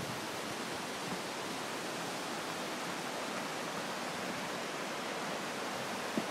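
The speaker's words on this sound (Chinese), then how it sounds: "还有瀑布" Capilano waterfall near Vancouver gives a continuous, even rushing roar of falling water, steady and moderately distant, with no voices.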